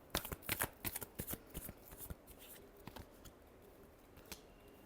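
Tarot cards shuffled by hand in a rapid run of crisp riffling snaps and flicks, close and fairly quiet, thinning to sparse taps toward the end.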